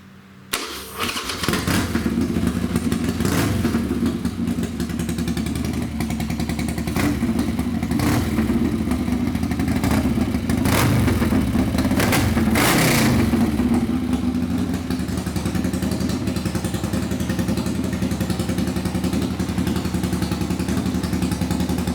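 A 2003 Harley-Davidson Sportster 1470cc cafe racer engine cranks and fires up, then settles into a loud, lumpy idle with a few sharp revs before steadying out.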